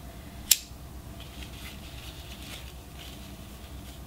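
A single crisp snip of scissors cutting ribbon for a boutique bow, close and brief, followed by faint rustling handling sounds.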